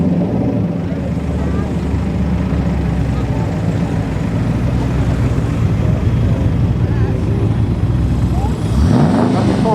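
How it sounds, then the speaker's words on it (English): Chevrolet Corvette driving slowly into place at the Ragley Hall classic car show, a steady low engine rumble held for several seconds beneath outdoor crowd noise, with a faint rising whine near the end. "I see the Corvette coming."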